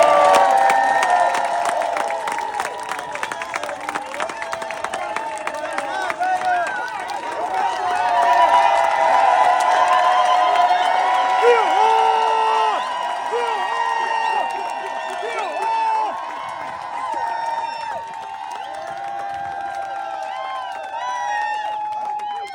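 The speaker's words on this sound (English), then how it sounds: "let's give a round of applause for Brother Rich Radio" A crowd at a live event cheering and clapping for a speaker, loud and sustained with shouts and whistles mixed in, fading somewhat toward the end.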